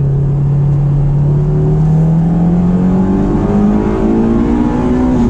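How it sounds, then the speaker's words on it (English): The engine of a Honda S2000 climbs steadily under load on a mountain road, loud and continuous from the driver's seat, its pitch rising smoothly throughout. "Any rev matching you hear in this video is me"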